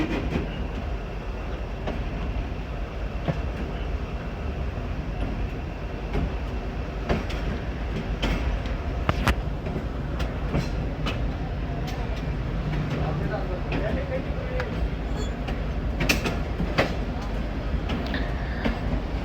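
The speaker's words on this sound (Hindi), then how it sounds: "तो दोमेल से ट्रेन हमारी निकल रही है जी" A passenger train pulls out of Domel station on the ML-2 line, its steady rumble carrying repeated wheel clicks and knocks at moderate loudness throughout.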